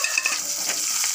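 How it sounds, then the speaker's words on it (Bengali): Chopped onion, garlic and chili drop into hot oil and fry with a bright, close sizzle that crackles steadily through the short moment, with no talking. "এই যে তেলটা গরম হয়েছে দিয়ে দিলাম,"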